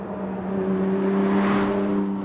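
V6 car engine accelerating hard, a steady, smooth, loud drone rising slightly in pitch over about two seconds, heard from close by inside the car with no talking.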